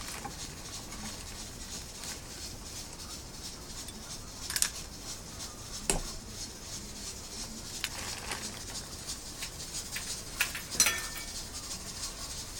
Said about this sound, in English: I'm pressure canning also today, and that's what you're hearing.